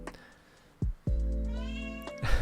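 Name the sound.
cat meowing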